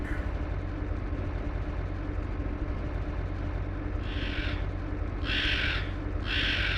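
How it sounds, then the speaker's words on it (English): Harsh, eerie crow screams in the Steambot Chronicles video game, three bursts in quick succession over a steady low engine-like rumble, the second and third longer and louder than the first. "this evil sounding crow is like screaming"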